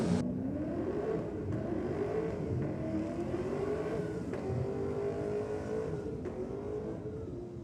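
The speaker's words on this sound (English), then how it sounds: "Definitely doesn't have a Nissan power plant in it though, Mark." A race car fitted with a non-Nissan engine at a Nissan theme night race meeting revs hard and steadily, its rising engine note loud and close throughout with no pause.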